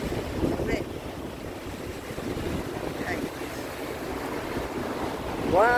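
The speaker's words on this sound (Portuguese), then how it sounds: "Curtindo aqui esse mar" Sea surf rolling in at Boa Viagem beach in Recife, with steady wave wash and strong wind buffeting the microphone throughout, continuous and fairly loud, no talk.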